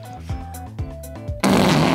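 A person imitates a fart by pressing hands against the face, producing several short, low, buzzy bursts, followed by a sudden loud wash of noise at the end.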